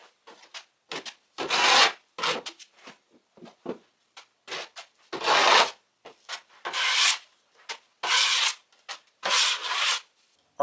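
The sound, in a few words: spreading drywall joint compound with a knife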